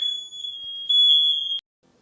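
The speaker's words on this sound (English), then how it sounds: "And now my fire alarm is going off." A smoke alarm sounds a loud, piercing continuous high-pitched tone for over a second, then cuts off abruptly into silence, at home while making beef broth in a slow cooker.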